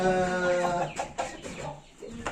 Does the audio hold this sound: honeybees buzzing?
no